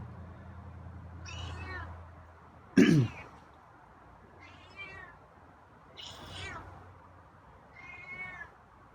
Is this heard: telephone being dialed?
no